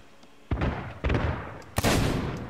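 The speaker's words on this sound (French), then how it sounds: "je tire avec mon sniper dans leur tête" Sniper rifle shots in Sea of Thieves, three sharp, loud booming cracks spaced about half a second apart, each with a short decaying tail.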